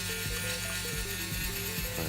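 A slow-speed rotary power tool lightly polishing a model, a steady droning buzz with faint periodic dips as it touches the surface, close and continuous with no talking.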